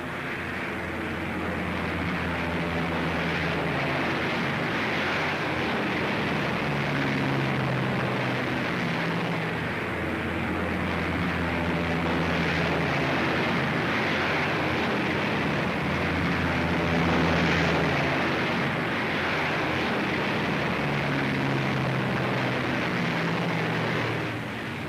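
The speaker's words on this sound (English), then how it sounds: "Flugzeuge." Wartime aircraft drone overhead in a continuous, broad, rumbling roar that swells and wavers slowly across the whole stretch, with no talk.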